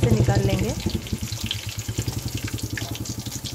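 Chicken pieces frying in hot oil for a Konkan-style dry chicken fry, a steady bubbling sizzle pulsing rhythmically close by, with brief background sounds early on.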